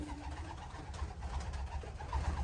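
Pigeons coo softly in a low, continuous murmur, faint and close, with no voices.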